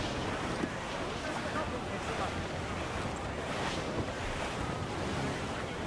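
Rough, dark seas in Assassin's Creed IV: Black Flag, with dense crashing waves and gusting wind roaring steadily throughout, loud and enveloping, without pause.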